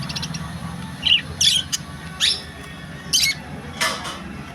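A white bird gives a series of short, sharp calls, about six separate chirps and squawks spaced a second or less apart over quiet background hum.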